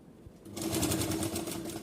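A sewing machine stitches the neck of a blouse, starting after a brief pause and running in a fast, steady whir for just over a second. It is close and clear, with no talk over it.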